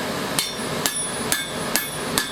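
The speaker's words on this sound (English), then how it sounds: "We gotta flip it and hammer it." Hammer blows on a forged metal loop after it is flipped, five crisp ringing metallic strikes at an even pace, close and distinct over low background noise, no speech.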